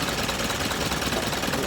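A cold Isuzu 4HL1 diesel engine runs rough and misfiring after a hard start, a dense, continuous knocking rumble close by with no talk.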